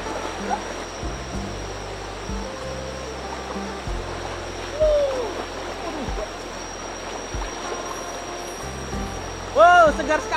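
Broadband rush of water from the Keburau river flowing steadily, with occasional splashes nearby, a brief birdlike chirp, and voices talking over it near the end.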